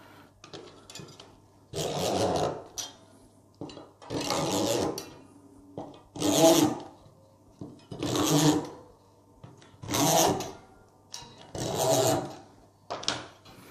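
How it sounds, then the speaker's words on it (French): A zigzag roller is run along the wires of a Dadant beehive frame to tension them, giving six rhythmic bursts of rasping, scraping friction, each lasting about a second, with quieter pauses between strokes. "on utilise ce qu'on appelle les roulettes zigzag"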